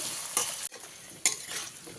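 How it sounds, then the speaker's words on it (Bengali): Diced potatoes and dried chillies frying in oil over a medium flame make a soft, continuous sizzle, broken by two quick scraping stirs. "দিয়ে দিলাম এটাকে ভালো করে ভেজে নেব গ্যাসটাকে মিডিয়াম ফ্লেমে রেখে"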